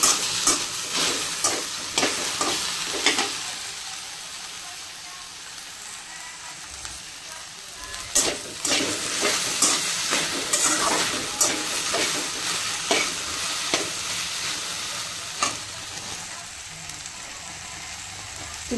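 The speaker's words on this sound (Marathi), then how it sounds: "तेलात भाजूया" Okra roasting in hot oil in a pan, a steady sizzle and hiss broken by repeated scraping stirs of a spatula, close and fairly loud, with no talking.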